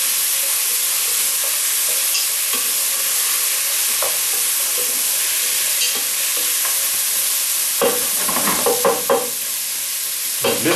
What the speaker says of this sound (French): Je laisse mijoter ça encore quelques minutes.